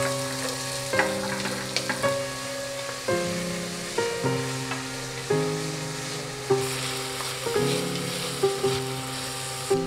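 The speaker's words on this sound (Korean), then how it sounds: "이제 냄비를 중불로 달군 뒤 오일을 붓고 양파와 당근을 3분간 조리해줍니다." Onion and carrot fry in oil in a pot over medium heat, giving a steady close sizzle broken by regular stirring scrapes about once a second, with no voices.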